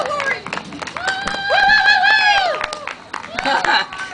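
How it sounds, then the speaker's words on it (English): Audience at a poetry and music event cheering and whooping loudly for a poet, with high sustained whoops and shouts rising over crowd noise and scattered clapping. "Now that's what I call a cheering section."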